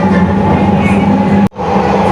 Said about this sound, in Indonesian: silakan kalian naik LRT ini teman-teman ya